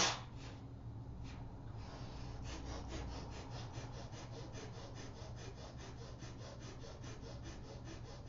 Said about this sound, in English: Panting breath through the nostrils.